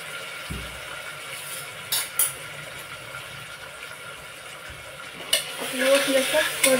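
Washed moong dal being sautéed in a pan for a spicy Khandeshi dal: a low, steady sizzle runs throughout, with a few sharp scrapes and stirring clatters and a louder burst of frying near the end.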